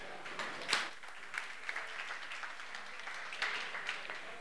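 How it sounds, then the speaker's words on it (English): A conference audience applauds a speaker at an IT event, giving a few seconds of steady crowd clapping with no one talking. "Can we get a big round of applause for Jörg, please?"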